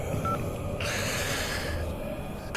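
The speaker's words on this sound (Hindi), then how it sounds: "అన్నకు ఫోన్ చేయి." A phone number is dialled on a touch-tone keypad during a tense film scene, a short run of electronic key tones over a busy background, with no speech.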